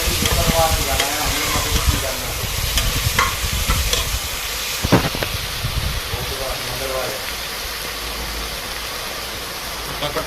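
Macaroni roasts in oil in a pan, giving a steady hissing sizzle with scraping stirs throughout, while a person talks over the cooking.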